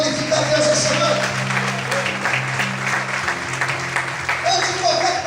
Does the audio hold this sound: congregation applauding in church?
yes